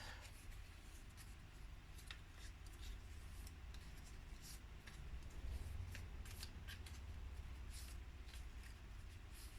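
Scissors snipping through leftover cardboard scraps for a small craft card, a fairly quiet, steady run of soft cuts and rustles over a low background rumble, with no one talking.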